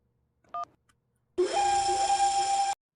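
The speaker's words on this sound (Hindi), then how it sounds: "आप लगातार डोरबेल बजा रहे थे" A short electronic doorbell chime sounds, then after a pause a longer, steady electronic ring tone holds for over a second before cutting off.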